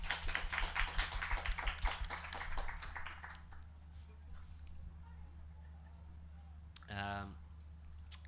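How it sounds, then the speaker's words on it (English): A burst of applause from a seminar audience for the panelists, dense clapping for about three seconds that fades into quiet room tone, with a brief separate rattle near the end. "So round of applause is for all our panelists today."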